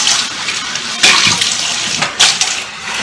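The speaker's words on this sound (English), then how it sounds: "So let me rinse out my little cup and dry it." Tap water runs steadily as a small measuring cup is rinsed in a kitchen sink, with two brief louder splashes as the cup passes under the stream; no talking.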